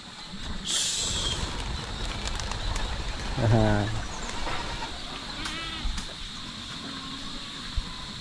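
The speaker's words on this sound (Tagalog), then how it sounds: "Yung mga kalapati natin, oh." Pigeons coo and flutter amid a busy outdoor scene, with a steady high hiss, a sharp chirp early on, and a goat-like bleat in the middle.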